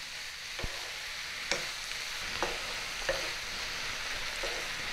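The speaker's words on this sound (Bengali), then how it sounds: "বাঁধাকপিটা দিয়ে খুব ভালো করে নাড়িয়ে চাড়িয়ে দেব।" Shredded cabbage being stirred in a hot pan for Bengali korai paturi, a soft frying sizzle with four or five distinct scrapes and clinks of a spatula at uneven intervals, faint and close.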